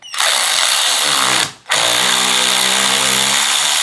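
A power tool, likely a cordless impact driver or drill with a 10mm socket, whirs loudly on a Bronco Sport battery terminal nut in two steady bursts separated by a brief pause.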